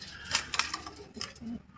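Racing pigeons being loaded for an APR and BBC race coo softly at close range, with light wing flutters and rustling in brief bursts.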